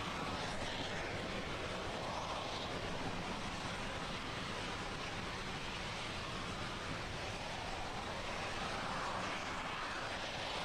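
Rumbling roar of a SpaceX rocket's first stage engines burning during a cargo launch to the International Space Station, heard as a steady, broad, distant-sounding wash of noise with no talk over it.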